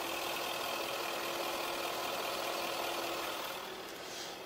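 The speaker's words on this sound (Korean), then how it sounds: "엔진 소음 먼저 들려드리면은" Eighth-generation Jaguar XJ 5.0 LWB engine idles with the hood open, a smooth, quiet, steady hum close by that eases off slightly near the end, without any voices.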